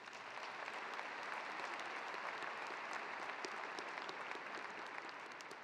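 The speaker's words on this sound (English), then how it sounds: "Now let's applaud them, please." Steady, sustained applause from a large crowd at a fall college commencement ceremony, a dense even patter of clapping hands throughout with no speech over it.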